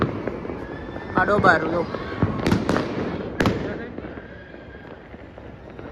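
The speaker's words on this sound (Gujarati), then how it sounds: "ફટાકડા ફૂટે છે" Firecrackers burst during Makar Sankranti celebrations in Ahmedabad: several sharp, close bangs and crackles in quick succession, with people talking throughout.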